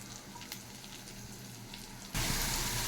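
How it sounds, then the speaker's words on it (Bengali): Masala with salt, turmeric and green chillies frying in a pan, a soft continuous sizzle that suddenly jumps to a much louder, bright crackling hiss near the end, with no talking. "মশলাটা বেশ ভালো করে কষিয়ে নিচ্ছি।"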